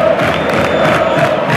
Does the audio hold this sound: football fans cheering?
yes